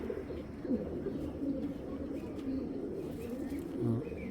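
Domestic pigeons cooing in a loft housing a single flock, with soft repeated coos and low murmurs close by against a steady rustling background.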